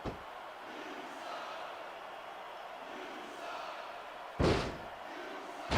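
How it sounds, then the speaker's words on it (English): Wrestling arena crowd in WWE SmackDown! vs. Raw 2006 on PS2, a steady roaring, cheering wash throughout with a sharp slam-like thud near the end. "I can't remember the last time I seen a crowd so pumped up."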